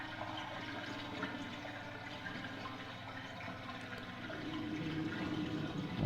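Water drains from a bathtub filled with muddy water in Resident Evil, a continuous gurgling rush that runs steadily for several seconds and grows slightly fuller toward the end, with no voices.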